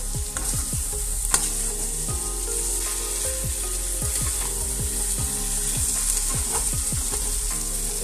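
Ivy gourd (kudri) sizzles in hot oil over a high gas flame while a utensil repeatedly scrapes and stirs it in the pan, making rhythmic clicks over a steady frying hiss.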